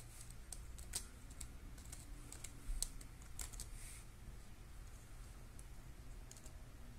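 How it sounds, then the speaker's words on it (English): A computer keyboard typed on one-handed, with irregular soft clicks of keystrokes and a few sharper taps, quiet and close over a low hum. "choose file, typing one-handed here."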